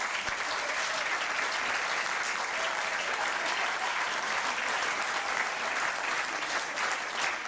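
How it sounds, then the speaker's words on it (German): Steady, dense audience applause at a welcome event, a continuous roar of many hands clapping that holds evenly for several seconds without talk over it. "Ein Applaus!"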